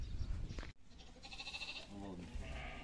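Sheep and lambs bleat at a livestock market amid a sharp knock and nearby people talking, the wavering, nasal cries rising faintly over the crowd.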